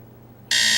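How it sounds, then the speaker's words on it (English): An alarm suddenly switches on after a quiet moment, a loud continuous electronic buzzing tone that holds steadily to the end. "That's the alarm."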